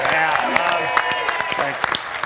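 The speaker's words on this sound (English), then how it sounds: "Give him a round of applause." An audience at an Australian football TV show applauds steadily, a dense wash of clapping from a crowd while a voice speaks over it.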